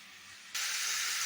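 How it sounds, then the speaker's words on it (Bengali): Water poured into a pan of Bhetki chili fish with green chili sauce sets off a sudden loud sizzling hiss, after a softer frying hiss, close and continuous. "এবার হালকা একটুখানি জল দিয়ে আমি পুরোটা ভালো করে নেড়ে নেবো"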